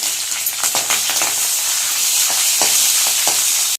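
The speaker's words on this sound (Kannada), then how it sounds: "ಈಗ ಜೀರಿಗೆ ಸಾಸಿವೆ ಸ್ಲಿಮ್ಮಲ್ಲಿ ಇಟ್ಕೊಂಡಿದ್ದೀನಿ ನಂತರ ಮೆಣಸಿನ್ಕಾಯಿ" Cumin, mustard seeds and chillies crackle and sizzle in hot oil, a loud, close, continuous hiss with small popping bursts throughout and no speech.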